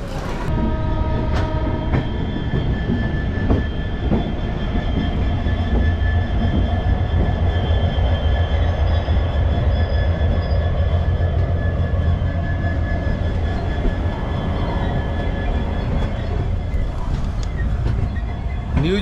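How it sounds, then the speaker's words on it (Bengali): The 12343 Darjeeling Mail, a roughly 146-year-old train out of New Jalpaiguri, rumbles steadily along the rails with a continuous low roar, rhythmic wheel clatter and occasional metallic squeal and tonal whine throughout. "নিউ জলপাইগুড়ি থেকে ছেড়ে দিল আমাদের ট্রেন"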